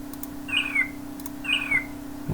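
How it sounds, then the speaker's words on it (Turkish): A bird sound effect added in Scratch, a chirping call that plays twice at even spacing over a steady electronic hum, faint and clean. "Hayvan seslerinden kuş sesi ekleyelim biz buna."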